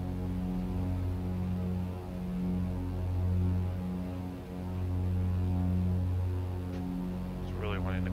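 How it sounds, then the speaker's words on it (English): A steady, droning propeller engine hum from a BN2 Islander in Microsoft Flight Simulator 2020, with a slow rise and fall in pitch, fairly quiet and continuous, with a faint brief chirp near the end. "Great engine sounds. I really like that hum."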